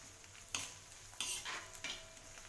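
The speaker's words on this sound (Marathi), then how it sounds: "तेल गरम आहे त्यामुळे कोथिंबीर याच्यामध्ये परतून होते" Coriander leaves added to hot oil with the gas turned off, sautéing as they are stirred, with soft stirring scrapes and brief sizzling bursts at a close, quiet level for a garlic chutney.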